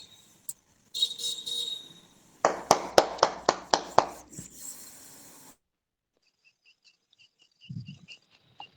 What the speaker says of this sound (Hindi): ताली बजा देते हैं आपके लिए